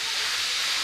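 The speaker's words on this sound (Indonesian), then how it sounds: "di sini berisik karena istri saya lagi goreng-goreng ikan ya buat makan" Fish frying in a pan in a home kitchen gives off a steady, loud, close sizzling hiss that runs unbroken throughout.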